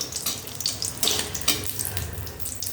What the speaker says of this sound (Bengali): এটা ভাজা ভাজা হয়ে যাক একটু ভালো করে।